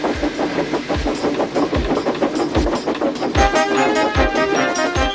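Steam locomotive Percy from Trainz puffs along with a steady, rhythmic chuff and clickety-clack of wheels over rail joints, loud and close, with no talking.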